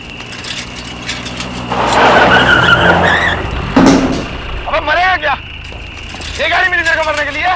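Car tires skid and squeal under hard braking in a tense street scene from a CID crime drama, a loud rising screech that dominates before angry shouting voices take over.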